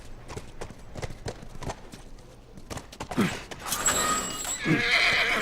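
In the video game The Last of Us, a horse's hooves clip-clop in a steady rhythm, then a horse neighs and whinnies loudly, followed by another whinny near the end.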